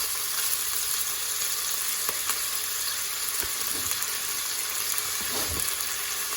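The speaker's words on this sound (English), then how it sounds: "you say brown the chicken, you're not really browning, you're just making it go not raw. You're sealing it." Chicken pieces sealing in a hot pan for a chicken and spinach curry, a steady, fairly quiet frying sizzle with a crackly hiss throughout and occasional faint pops and light clatter.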